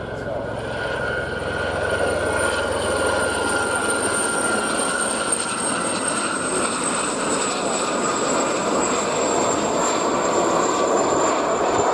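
Two Gazelle helicopters pass at an air show, their engines a broad, steady distant roar that builds slightly and lingers with a high whine over open-air background noise.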